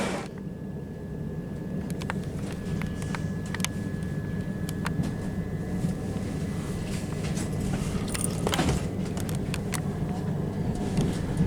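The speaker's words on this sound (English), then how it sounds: "My train to Brighton is actually a Gatwick Express" A Gatwick Express Class 387 electric train runs on the line to Brighton, giving a steady, continuous rumble with a faint electrical whine and occasional clicks from the track throughout.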